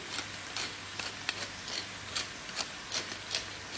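Beef frying in a pan with soy sauce for pad thai, a soft steady sizzle broken by light repeated scraping strokes of stirring, fairly quiet and close with no voices.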